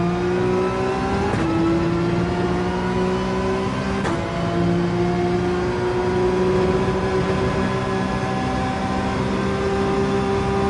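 Porsche 911 engine in the Gran Turismo 7 racing game on the Dragon Trail circuit, held at high revs with a steady, loud whine and two brief gear-shift dips.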